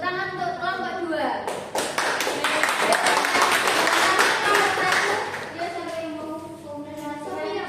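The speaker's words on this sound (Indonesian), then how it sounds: "Tepuk tangan untuk kelompok 2." Classmates applaud a student group in a school classroom, with a burst of dense clapping lasting several seconds amid ongoing voices that continue after it fades.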